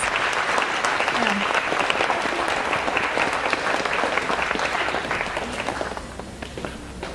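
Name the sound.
audience applause after powwow dance performance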